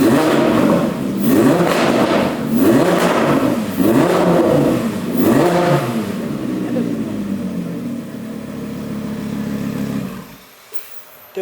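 Audi R8 fitted with an $8000 aftermarket exhaust revs loudly and close by in repeated rising-and-falling bursts, then settles into a lower drone before cutting off abruptly.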